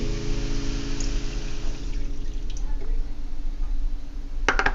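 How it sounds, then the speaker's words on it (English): Water poured into a pan of browned taco meat, a soft liquid sizzle and squish under a steady hum, with a brief clatter near the end. "now we're going to add the water"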